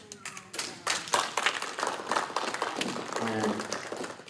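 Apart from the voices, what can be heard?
audience applause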